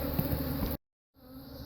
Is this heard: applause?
no